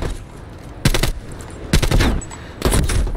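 Three loud, booming shotgun blasts ring out from a video game, each with a short decaying tail and brief pauses between them.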